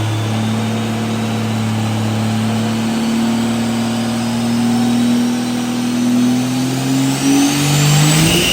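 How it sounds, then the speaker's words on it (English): A 6.7 Cummins diesel pickup with nitrous revs on a dyno, a loud close engine drone whose pitch holds steady and then climbs toward the end as it accelerates, with no talking. "So we just added a little bit of nitrous to Lucas Miller's truck."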